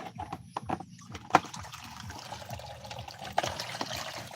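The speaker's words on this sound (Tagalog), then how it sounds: "dagdagan na natin ng malamig na tubig." Cold water trickles and pours into a container of softened gabon leaves prepared with hot water for a bath, a close, steady liquid splashing with a couple of sharper knocks.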